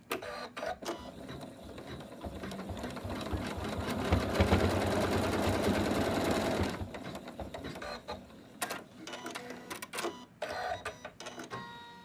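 An embroidery machine stitches out an arm placement for an in-the-hoop wish monster, running steadily with a dense rapid mechanical chatter that swells for several seconds, then breaks into shorter stop-start bursts.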